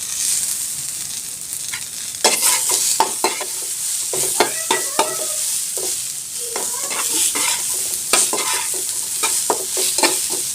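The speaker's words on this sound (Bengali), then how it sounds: "পেঁয়াজটা দিয়ে আমি আবারও ভালো করে কিন্তু ভেজে নেব একটু সময় নিয়ে" Chopped onion fries in oil with pointed gourd in a pan, a continuous sizzle broken by repeated scraping and clacking of a spatula as the mixture is stirred.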